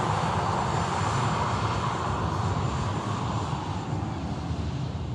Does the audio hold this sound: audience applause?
no